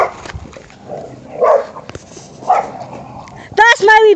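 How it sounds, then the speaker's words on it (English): Several dogs play and bark, a few short barks and yips, close and loud, with a person talking and exclaiming over them throughout. "I'm just taking a video of the dogs I love and care about"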